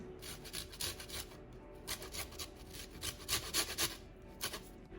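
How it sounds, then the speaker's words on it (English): An unwaxed lemon scraped against a grater for zest, heard as a close series of short rasping strokes in an uneven rhythm that grows a little louder toward the end, with no voices. "I've got an unwaxed lemon. I'm just gonna add the zest of this."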